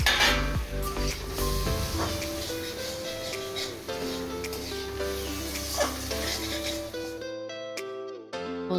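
Fried potatoes tipped into spiced masala in a kadai, with a soft sizzle and the clink and scrape of a spoon stirring against the pan, all set under steady background music that cuts out near the end.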